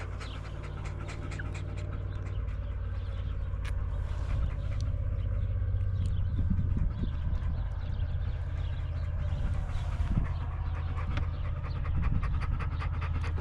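A dog pants close by in quick, rhythmic breaths, steady and loud throughout, with a low rumble and some shuffling underneath.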